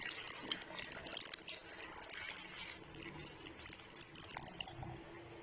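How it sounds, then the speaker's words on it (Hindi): Two cups of milk poured over apples for a no-bake apple pudding dessert, a soft continuous liquid stream and gurgle at close range, steady throughout with no talk. "तो 2 कप जो है वो दूध डालेंगे।"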